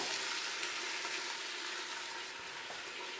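Pork browning in a pan with added yellow onions, whole garlic cloves and green chilies gives off a steady, dense sizzle and crackle, close and continuous with no talking.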